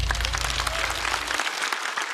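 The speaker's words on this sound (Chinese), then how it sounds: "来，掌声送给虎牙。" A stand-up comedy audience applauding a comedian after the set, steady, close, continuous clapping from a full crowd with a low rumble underneath that drops away midway.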